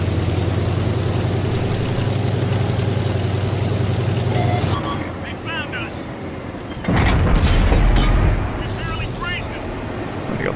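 A tank in World of Tanks fires its cannon with one heavy, booming blast partway through. Engine rumble runs before it, and people talk over the game sound.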